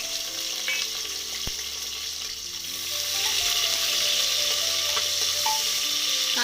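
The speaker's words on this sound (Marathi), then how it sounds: "कांदा छान फ्राय करून घ्या." Chopped onion frying with cumin seeds in hot oil, a continuous close sizzle that grows slightly louder and fuller partway through, with faint stirring and no talking.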